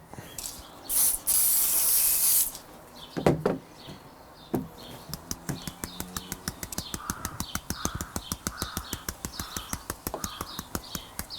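A loud burst of spray hisses for about two seconds, then a rapid series of sharp, evenly spaced clicking pumps continues close by.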